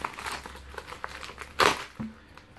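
Packaging from mail is unwrapped by hand, producing soft close crinkling and rustling with a sharper tear near the end.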